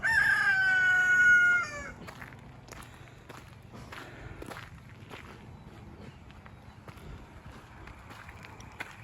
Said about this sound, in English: Chickens are living it up in their spring life.